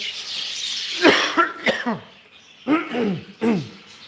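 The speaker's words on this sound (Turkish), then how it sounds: "Boğazım tıkanıyor. Bir öksürmem lazım." A few sharp coughs and throat-clearing bursts, close by, in short irregular clusters with brief pauses between them.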